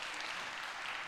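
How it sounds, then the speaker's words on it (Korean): A church congregation gives warm applause for teachers, young adults and fellow workers during a Sunday youth service. The clapping is a brief, steady, moderately distant wash with no break. "우리 교사분들과 우리 동역자, 우리 청년분들에게 따뜻한 격려의 박수 보내주시면 감사하겠습니다."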